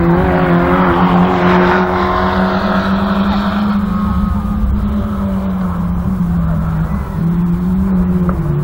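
Autograss race cars roar around the track on the last lap at St Neots, a loud, continuous engine drone with shifting pitch as the cars pass close by.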